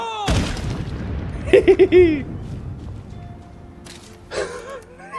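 A loud explosive blast booms at the start in State of Decay 2, then fades into a rumbling tail while a voice speaks afterward.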